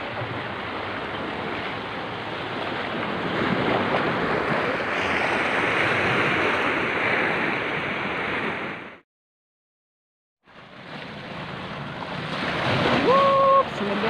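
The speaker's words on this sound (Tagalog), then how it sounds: "Ganda ng alon." Steady roar of ocean waves washing in, loud and continuous with wind buffeting, broken by a brief silence before the surf resumes.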